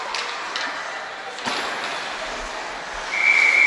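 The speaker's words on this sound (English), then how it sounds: "All right, there's the whistle." A referee's whistle at a junior women's ice hockey game sounds out in a busy arena, a sustained high tone near the end above steady crowd and rink noise.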